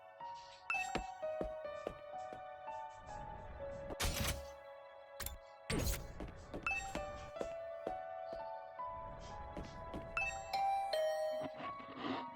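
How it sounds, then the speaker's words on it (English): A doorbell in the video game The Hundred Line: Last Defense Academy rings as soft chiming tones over quiet ambient game music, with several light knocks and clinks in between. "I rang the doorbell and could hear the bell ring on the other side"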